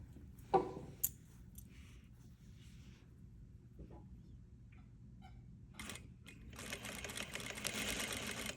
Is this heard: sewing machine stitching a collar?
yes